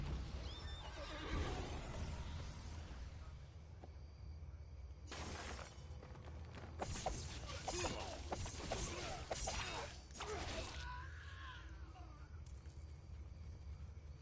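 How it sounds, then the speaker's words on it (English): A horse in a PS4 video game whinnies and clip-clops, with bursts of louder game noise including crashing sounds mixed in over a steady background; a voice talks at times. "You can ride the horse."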